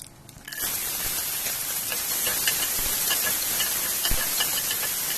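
Onion dropped into hot oil with mustard seeds, cumin and curry leaves in a pan, bursting into a loud, steady sizzle after a brief quieter start and holding close and continuous throughout.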